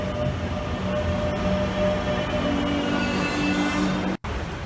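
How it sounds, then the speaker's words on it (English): A Madrid Metro Ansaldo Breda 7000 or 9000 subway train runs underground with a steady, loud rumbling roar, faint tonal whines and light wheel squeal, broken by a brief sudden dropout near the end. "This is an Ansaldo Breda 7000 or a 9000 train."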